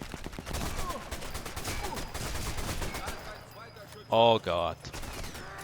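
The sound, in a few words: MP40 submachine gun fire in video game Sniper Elite 4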